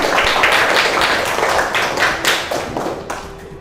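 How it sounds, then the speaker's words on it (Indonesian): Classroom applause for a student group: a burst of many hands clapping, close and fairly loud, fading slightly toward the end. "tepuk tangan untuk kelompok 2"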